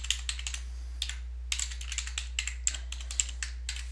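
Steady clicking of computer keys as code is typed, crisp close keystrokes in quick irregular runs with short pauses, over a faint low electrical hum and no speech.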